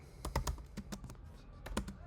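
Rapid keystrokes on a computer keyboard while Java code is entered, a cluster of quick clicks, a short pause, then a few more taps, close and fairly quiet.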